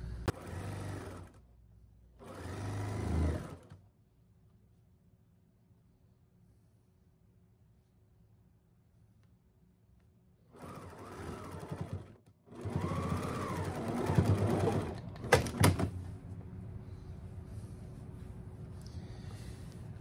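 A domestic sewing machine stitching fabric for kimono-style sleepwear, two short bursts then two longer runs of fast, steady whirring, close up with quiet pauses between.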